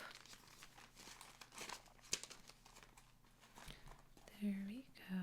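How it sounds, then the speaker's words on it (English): Cash bills being gathered and slipped into a paper envelope, giving close, soft crinkling and rustling with a few sharper paper snaps, while a quiet voice murmurs. "And put that in a envelope."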